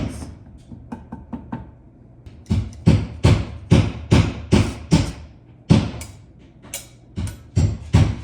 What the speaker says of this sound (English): Be very careful if you're growing out your nails, because this grater will cut your nails.